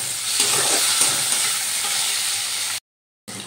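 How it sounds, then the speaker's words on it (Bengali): Cashews and raisins fry in hot oil with a loud, even, crackling sizzle and light stirring, then a sudden brief silence before the frying resumes. "এবার আমি ওই তেলের মধ্যে দিয়ে দিচ্ছি কাজু আর কিশমিশ। কাজু আর কিশমিশগুলো একটু ভালো করে ভেজে নেব।"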